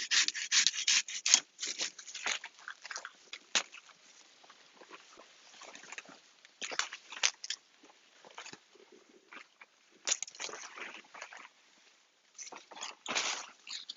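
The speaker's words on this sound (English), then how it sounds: "I'm gonna use my pruning saw to take it out so that I don't hurt my cassava" Pruning saw cutting through a castor bean stalk outdoors, a close, uneven series of scratchy rasping strokes in quick bursts with brief gaps between them, moderately quiet.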